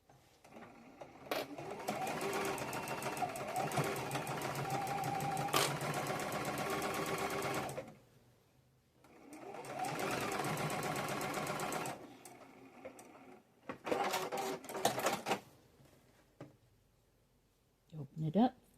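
A sewing machine stitches a quarter-inch seam for a Halloween quilt block, running in two long steady bursts with a pause between, then short choppy runs, close and clear.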